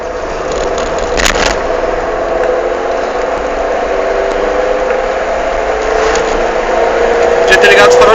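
A Fiat Palio Weekend's engine runs loud and steady up close, its rough, droning rumble holding constant. Men chat casually nearby over the noise.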